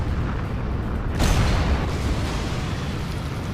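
A heavy shell from a Borsig tank destroyer slams into a tank in a video game, one loud booming impact that cuts sharply through steady engine rumble and fades into a lingering roar.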